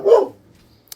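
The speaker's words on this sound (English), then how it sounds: "I'd much appreciate it if you please don't bark." One short, close dog bark, loud and sudden, then near silence with a faint small tick at the end.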